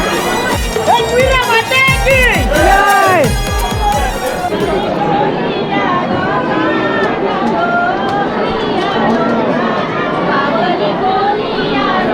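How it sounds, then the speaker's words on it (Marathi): Dense crowd chatter fills the courtyard of the Ekvira temple, with many overlapping voices forming a steady, close hubbub. Tonal, song-like voices rise over it at first before the general babble takes over. "गर्दी आहे गर्दी आहे गर्दी आहे गर्दी आहे"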